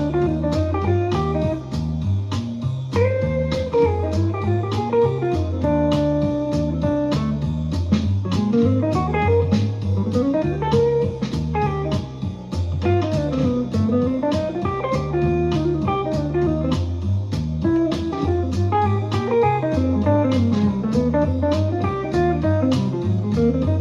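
Guitar solo over a walking bass and steady backing: flowing melodic runs and chordal phrases in a minor blues feel, loud and continuous throughout.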